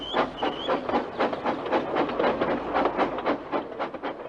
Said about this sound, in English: James was able to pull the train.